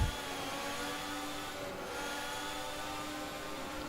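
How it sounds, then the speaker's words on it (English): Simulated 2014 Formula 1 engines in rFactor run at low revs behind the safety car at the Australian round, a steady droning whine with layered harmonics and no sharp revving. "Just listen to the new engines."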